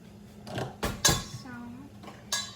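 A utensil scrapes and clanks against a slow cooker pot while beef stew is stirred, giving several short knocks and scrapes close to the mic, with a brief metallic clatter.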